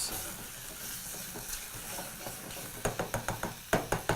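Turmeric powder and red food colour being mixed into a mutton biryani in the pot, a faint sizzle followed by a quick series of spoon scrapes and knocks against the pan near the end.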